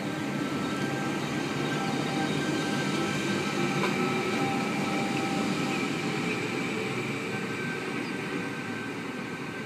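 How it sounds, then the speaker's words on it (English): A Sydney Trains V-set pulls out of Platform 3 at Wyong on a Newcastle service, a continuous loud rumble of rolling stock close by with faint metallic wheel tones running through it. "V-set departing Platform 3 for a Newcastle service."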